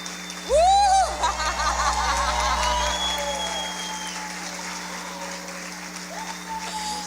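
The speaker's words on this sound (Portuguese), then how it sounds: "Pode aplaudir a Jesus." A church congregation at Lagoinha São José applauds in a sustained, dense wash of clapping that opens with a loud whoop or whistle and settles into steady, moderate applause with a faint hum underneath.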